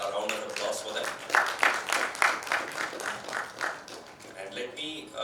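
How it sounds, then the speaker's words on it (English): Audience applause at a company workshop session during a summit, a steady patter of clapping from a crowd with a few louder swells, running for several seconds under some background voices. "please, a round of applause for them"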